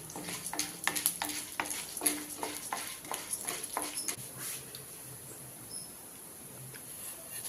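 Chana dal and urad dal roasting in a spoonful of oil in a pan, with light crackling and a few scraping stirs, fairly quiet and close, without talk.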